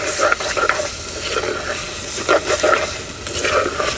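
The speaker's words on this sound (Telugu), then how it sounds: "అలాగే 1 అర చెంచా పసుపు కూడా వేసుకొని బాగా కలుపుకొని టమాటా మెత్తబడే వరకు ఉడకనిద్దాం." Tomatoes and turmeric sizzle and fry in a pan for dry prawn rasam, with a spoon repeatedly stirring and scraping through the mixture in steady, close, moderately loud strokes.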